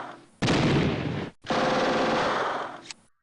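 Machine gun fire in the WWII strategy game Steel Panthers WW2: two long, loud, dense bursts of rapid shots with a brief pause between them and a short tail after the second burst.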